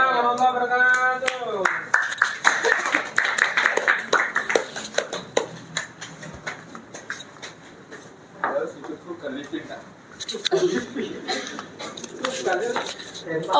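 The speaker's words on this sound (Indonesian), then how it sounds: "Oke, tepuk tangan sekali lagi dong buat Kak Tamfan ya, buat Kak Zendi" An audience at a coffee-meetup talk event claps for the speakers, a burst of dense clapping alternating with stretches of talk over scattered claps, fairly close and lively.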